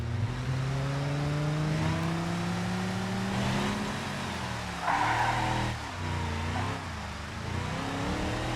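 A truck in BeamNG drives with a revving engine whose pitch climbs and falls, tires scrubbing and rumbling before a harsher impact-like burst of noise midway, followed by more engine drone, steady and fairly loud with no talk.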